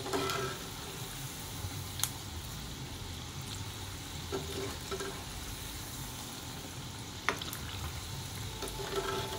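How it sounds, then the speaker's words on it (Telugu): Punugulu fritters fry in hot oil over a medium flame, a steady close sizzle and crackle with a few faint clinks of a ladle against the pan, and no talk. "మీడియం ఫ్లేమ్లో పెట్టి చక్కగా ఎర్రగా అయ్యేటట్టు వేయించేద్దాము"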